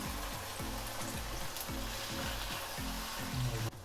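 Okra and onion, fried earlier, go into a chicken curry cooking over a low flame, and the pot sizzles steadily with a rhythmic scraping stir throughout.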